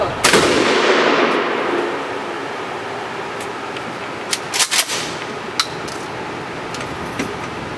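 Shotgun blasts at an outdoor shooting range: one loud opening report with a long decaying tail, then a few sharper, quieter cracks a few seconds later, with no talking.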